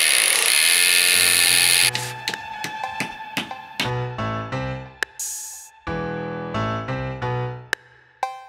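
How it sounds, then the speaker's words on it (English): A power drill boring holes into masonry and concrete for hammer-in fixings in a new-build garden, a loud continuous whine at first, then a series of short, uneven drilling bursts with pauses between them. "So you drill the hole and then just hammer them in."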